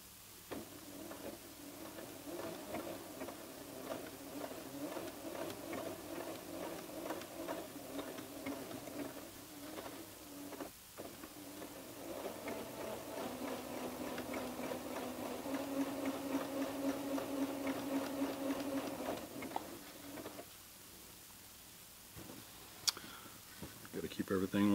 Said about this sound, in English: So we're going to start sewing here and I'll show you the results.